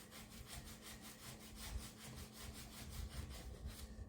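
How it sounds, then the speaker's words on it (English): Sandpaper rubs back and forth against a wooden Les Paul guitar kit body, a steady rhythmic scratchy rasp up close with even strokes throughout. "So, I take my sandpaper, come in here,"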